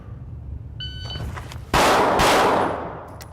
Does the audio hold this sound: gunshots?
yes